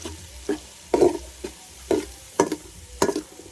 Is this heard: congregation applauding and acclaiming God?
no